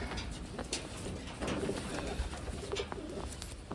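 A large checkered Taiwan pigeon gives soft, low cooing calls, faint and repeated under a steady background hiss and handling noise.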